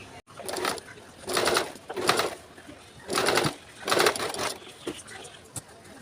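Bursts of a sewing machine top-stitching pajama fabric, several short runs of rapid clatter a second or so long separated by brief pauses, moderately close.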